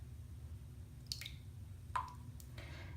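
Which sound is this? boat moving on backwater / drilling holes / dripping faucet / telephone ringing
dripping faucet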